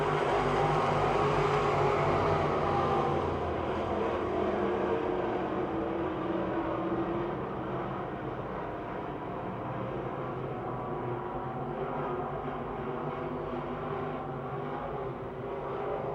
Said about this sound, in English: Then it's Lucon and Angelicchio coming off of 4 down the front chute.